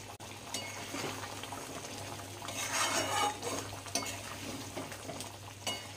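A spoon stirs chicken malai kofta curry after kasuri methi and garam masala are added, soft scraping against the pot over a low simmering hum, with a few light clinks.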